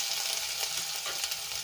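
Ginger, garlic and chili paste sizzles in hot oil as it is stirred. The frying hiss is close, bright and continuous, with no voices.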